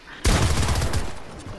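Loud burst of rapid gunfire in a video game, a dense volley erupting suddenly after a quiet moment and rattling on before tapering slightly.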